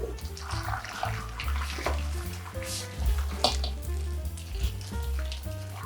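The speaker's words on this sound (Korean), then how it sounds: "이 끓는 물을 그대로 오이에 부어줍니다." Boiling salt water is poured over cucumbers in a kitchen, a continuous splashing, gurgling pour with bubbling sizzle, close and steady for several seconds.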